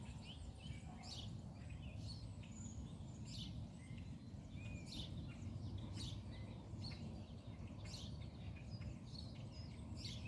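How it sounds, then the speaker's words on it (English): Birds call outdoors in repeated short bright chirps at an even spacing, faint and somewhat distant over a steady low background hiss, with no talking. "so hopefully you guys could hear the birds."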